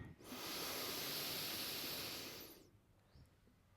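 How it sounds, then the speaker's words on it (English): One long, slow breath drawn in and pushed out through the nose and mouth, a soft steady rush lasting a couple of seconds before tailing off into quiet room tone, close and alone. "Let's take a deep breath, fully exhale."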